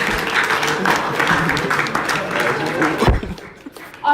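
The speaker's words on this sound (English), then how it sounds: "All right, can we clap for them," Audience clapping at a peace conference, a broad steady patter of applause mixed with crowd noise and voices through most of the stretch, then thinning out near the end.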